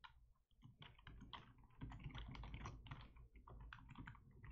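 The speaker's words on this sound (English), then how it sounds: "I don't know how to work this keyboard." Rapid keystrokes on a Windows computer keyboard clatter in an irregular stream of close clicks, typed alone without any voice over them.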